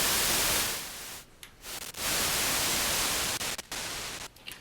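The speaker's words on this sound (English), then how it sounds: "So we got white noise and we got pink noise" Loud, steady hiss of white noise from a Moog Modular 1C synthesizer, cutting out briefly several times before resuming at full level.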